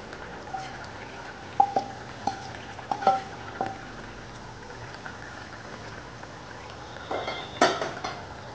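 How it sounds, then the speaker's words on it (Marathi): A spoon scrapes and clinks against a pan while mutton is stirred together with masala, giving scattered metallic taps and knocks over a soft background hiss, close by and with no one talking. "सर्व व्यवस्थित एकत्र मिक्स करून घेऊयात."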